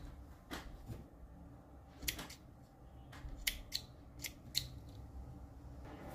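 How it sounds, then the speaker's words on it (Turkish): Small scissors snip excess yarn from a crocheted Hello Kitty AirPods case, several quiet, crisp clicks in irregular succession, close and faint with no talking. "Fazla ipleri de şu şekilde kesiyorum"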